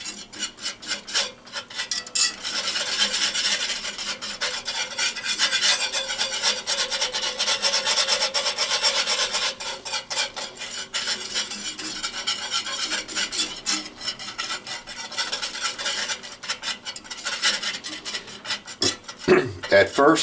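A spoon scrapes and stirs a gumbo roux of flour in hot oil in a pot, a steady rasping, rubbing sound that keeps up a close, quiet rhythm throughout.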